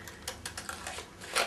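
A pair of spiky decoupage scissors snips around a lime green paper circle for a flower card, giving a run of small, quiet, close clicks and crisp cuts in an uneven rhythm.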